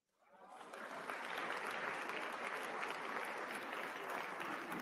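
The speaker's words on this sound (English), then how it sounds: "What you guys are applauding for?" A large crowd at the Mo Ibrahim Foundation African Leadership Ceremony at KICC applauds, swelling quickly into sustained, dense clapping that holds steady throughout.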